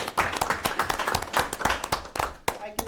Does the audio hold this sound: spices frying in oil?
no